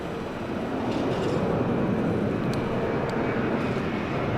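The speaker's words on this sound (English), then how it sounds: "Just a Jetstar departure." A Jetstar airliner departs Sydney Airport, its engines a broad, steady roar that swells slightly and holds, heard from an outdoor spotting position with no voices.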